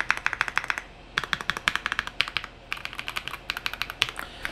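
An AULA F99 mechanical keyboard is typed on at close range in rapid bursts of crisp, clacky keystrokes, with short pauses between runs.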